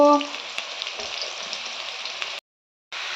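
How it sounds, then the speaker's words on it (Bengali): Ash gourd pieces fry in hot white oil in a pan, giving a steady, close hiss of sizzling that runs unbroken, drops out briefly near the end, then comes back. "তেলটা গরম হয়ে গেছে এবার চাল কুমড়োগুলো ভেজে নেওয়ার জন্য দিয়ে দেব"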